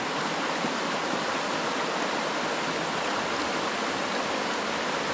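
A river streams past a riverside cooking spot, a steady broadband rush of flowing water that holds unbroken and fairly loud throughout, with no talk over it.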